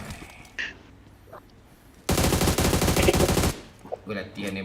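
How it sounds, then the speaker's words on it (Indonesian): Rapid automatic gunfire during shooting practice in PUBG Mobile, a loud dense burst of about a second and a half after quiet background clatter, followed by a few softer shots. "Gue latihan nembak dulu lah."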